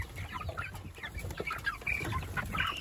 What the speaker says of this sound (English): Thought I'd give y'all guys a little update on our crisscrossed meat birds and my free chick